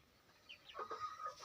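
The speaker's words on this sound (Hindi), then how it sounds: "ये है हमारी कुछ मुर्गियाँ।" Hens kept at home make short clucking calls that start softly and grow into several close, moderately loud clucks in quick succession.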